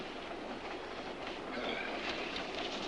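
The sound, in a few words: train running on rails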